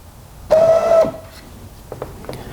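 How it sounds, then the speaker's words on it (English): Linear actuator steering a Corvette Power Wheels ride-on car, run straight off its 12-volt battery: a short, close electric motor whine of about half a second, followed by a few faint clicks and knocks. "Here's a sneak peek of the linear actuator working."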